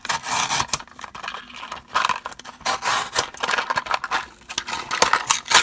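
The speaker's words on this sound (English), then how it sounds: "We're just gonna cut." Scissors or a blade cut through a blind box package, a series of rough scraping and rasping strokes in irregular bursts, close and fairly loud, with no talk.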